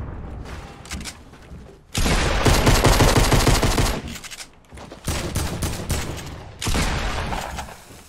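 Fortnite gunfire crackles in dense automatic bursts, three loud sustained volleys separated by brief quieter gaps with lighter shots, close and harsh.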